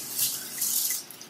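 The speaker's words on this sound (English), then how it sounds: "When all of that is done, I spritz Serozinc." Two short hissing bursts of Serozinc facial water mist sprayed from a pump bottle, close and fairly soft, with a faint click or drip at the end and no talking.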